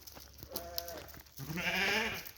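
Sheep bleat close by in two calls: a short wavering one, then a longer, louder, quavering bleat. There is no talking.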